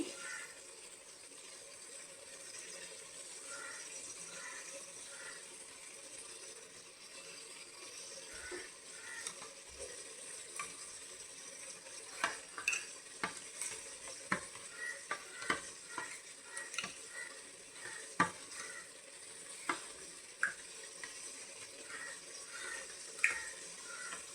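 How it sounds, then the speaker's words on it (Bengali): Spices sizzle softly in a pan for alur dom while a utensil stirs and scrapes, with a steady run of clicks and taps that grows busier midway. "এবার মশলাটা আস্তে আস্তে একটু ভাজা হবে"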